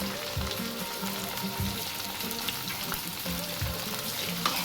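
Chopped onions fry in a pan for buttermilk upma, making a steady close sizzle with occasional stirring clatter.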